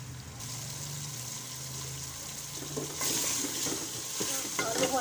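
Potatoes with cumin and black pepper frying in a pan, a low hiss of sizzling with scrapes of stirring that grow louder and more frequent toward the end.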